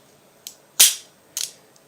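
A pistol with a heavy trigger pull fires dry clicks: three sharp mechanical snaps, the middle one loudest, spaced about half a second apart, close up with no speech.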